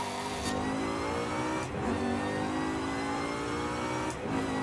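Supercharged Ford Raptor R pickup in Forza Horizon 5 revving hard, a deep, throaty engine roar with supercharger whine, swelling and dipping in a couple of quick throttle blips, loud and close with no talking.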